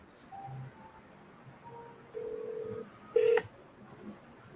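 Telephone keypad dialing for an outgoing call, a series of short electronic tones of varying pitch, moderately loud and alone.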